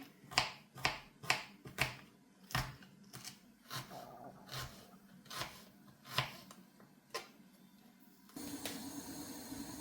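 Onions being chopped with a knife on a board for a filling: a steady run of crisp, close taps, quicker and sharper at first, then sparser, ending in a rustling noise.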